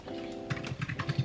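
Quick keystrokes tapping on a computer keyboard, a short irregular burst of clicks close up, picking up pace toward the end with a faint hum underneath.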